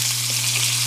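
Lamb steak frying in a pan gives off a steady, close crackling sizzle with a faint low hum underneath and no voices.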